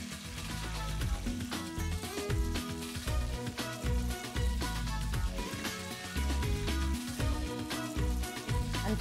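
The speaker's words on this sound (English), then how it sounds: "And fry this for about 3 to 4 minutes." Onions and a bay leaf sizzling in hot oil in a pan for a jambalaya sauce, a dense, continuous crackle and spit that stays loud and steady throughout, with no talking.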